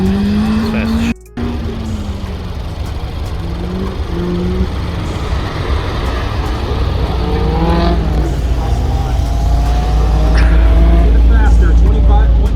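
Caterham sports car running fast on an autocross course, engine note rising and falling as it accelerates, growing louder toward the end, with people talking over it.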